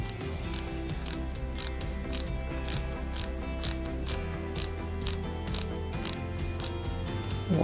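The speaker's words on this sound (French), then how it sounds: "à l'arrière, on va y mettre une vis AP pour maintenir" A screwdriver drives a small AP screw into the rear of 1:8 scale Peugeot 205 GTI 1.9 model parts, giving a steady run of close, even ratcheting clicks over a low mechanical hum.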